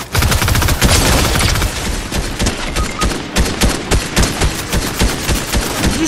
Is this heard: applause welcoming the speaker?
no